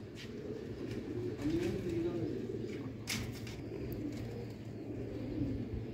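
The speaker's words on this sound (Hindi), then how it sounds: "सलेटे मगर दोस्तों कबूतर।" Slate-grey Magar breed pigeons coo softly in a few low, rolling calls over a steady background hum, with someone talking throughout.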